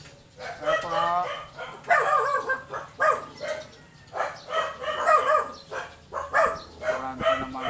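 A dog barks repeatedly in short bursts at moderate distance during a trike ride, with people talking nearby and a rooster-like call mixed in.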